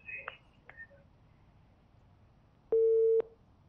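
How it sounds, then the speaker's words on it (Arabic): A single steady telephone busy-signal tone sounds after a call drops, following a couple of faint clicks and chirps on a quiet line. "انقطع الاتصال مع استاذ احمد وقفل التليفون والتلفزيون"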